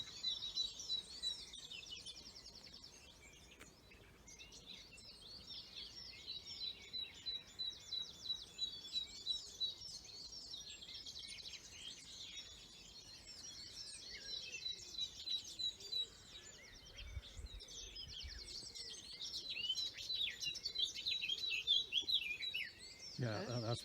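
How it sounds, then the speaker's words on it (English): A blackcap warbler sings close by in an April dawn chorus, its bright, fast warbling phrases repeating steadily over a soft background of other birdsong. "There's the blackcap singing now"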